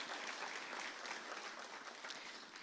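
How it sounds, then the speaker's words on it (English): Steady applause from an audience at a college event fills the space, a dense wash of clapping heard at a distance and fairly quiet throughout. "Let's give them our applause"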